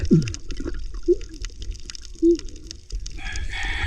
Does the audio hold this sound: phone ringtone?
no